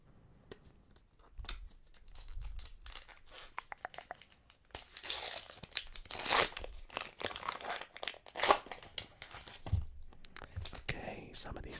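World Cup trading card packs are torn open up close, foil wrappers crinkling and ripping in bursts, with cards slid and handled between quiet whispered talk.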